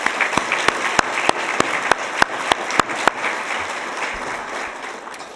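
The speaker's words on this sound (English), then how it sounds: "Let's give one more applause to our honorees." An audience at an ethics awards ceremony applauds its honorees, sustained loud clapping punctuated by sharp, regular claps close to the microphone, gradually easing toward the end with no voices over it.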